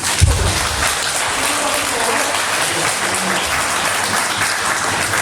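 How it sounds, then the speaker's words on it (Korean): A congregation at a Sunday afternoon church service and health seminar applauds a visiting speaker, a loud, dense, unbroken round of clapping filling the hall after a sharp opening burst. "우리 박수로 한번"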